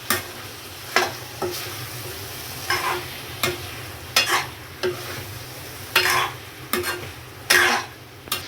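A spoon repeatedly stirs lotus stem curry with spices in a pan, giving roughly a dozen scraping strokes in an uneven rhythm over a soft sizzle, close and clear, with no talking.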